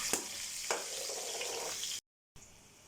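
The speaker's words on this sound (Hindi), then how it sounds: "अब इसको 4 to 5 मिनट जो है वो हाई फ्लेम पे हम इसकी भुनाई करेंगे।" Spices for chicken karahi frying over a high flame: a steady, close hiss of sizzling oil with a few sharp stirring knocks, then a brief dead gap before the sizzle resumes.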